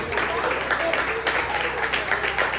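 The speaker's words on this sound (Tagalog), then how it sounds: "O pumalakpak muna tayo sa aking mga Panginoon." Applause from a church congregation at a 50th anniversary celebration, a steady dense wash of clapping that stays loud and even throughout.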